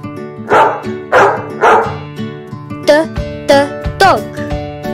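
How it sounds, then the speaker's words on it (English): A dog barks in three quick, loud bursts near the start, heard over a children's animal alphabet phonics song with steady music and a singing voice continuing afterward. "D is for dog."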